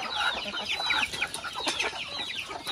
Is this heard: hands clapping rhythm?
no